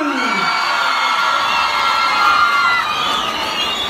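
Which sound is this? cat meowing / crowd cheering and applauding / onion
crowd cheering and applauding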